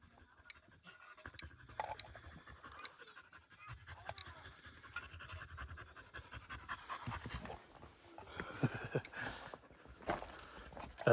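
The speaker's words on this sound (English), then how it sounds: "That's not me breathing heavy, that's all the dogs following me around." Several dogs pant heavily at close range near an abandoned mine shaft on a ranch, a continuous rapid breathy rhythm mixed with occasional chewing or licking sounds and footsteps, growing louder toward the end.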